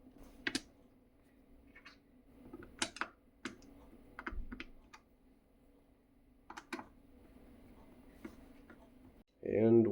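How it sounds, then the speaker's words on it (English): Bolts are screwed into the back of an Autel Ultra S2 scan tool, making sparse small clicks and ticks scattered over a quiet, humming background, with a louder knock near the end. "All that's left is to screw in 10 bolts on the back side of the scan tool."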